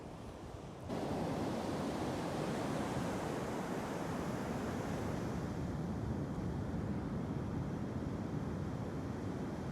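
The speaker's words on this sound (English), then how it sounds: "That's the ocean." Ocean waves wash steadily onto an empty beach, a loud continuous surf roar mixed with wind buffeting the microphone, rising sharply after a brief quieter start and holding without talk.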